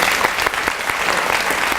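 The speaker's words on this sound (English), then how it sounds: "can we give her a round of applause?" An indoor audience at a celebration event breaks into brief, dense applause, a loud steady patter of many hands clapping together.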